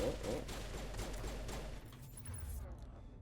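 Rapid video-game gunfire from Mass Effect on Eden Prime, dense bursts of shots crowding the first half and then thinning out, with a brief high electronic tone near the end.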